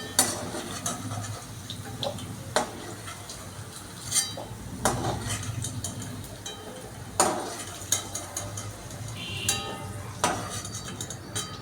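Fried carrots and potatoes lifted out of a wok with a spatula: scattered scrapes and metallic clinks over a faint background sizzle of oil, close and moderately loud.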